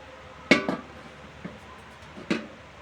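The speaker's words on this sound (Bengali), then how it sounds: "এই ডেচকিটা ঢাকা দিয়ে দেবো" A metal lid clanks onto a cooking pot, a sharp clatter with a quick rattle as it settles, a faint tap, then another clear clank a moment later in a quiet kitchen.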